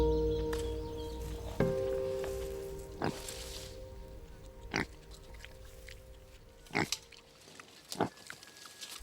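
Pigs on the Galápagos Islands grunting in short, separated bursts over a steady low background hum, a few grunts spaced seconds apart, moderately near and not loud.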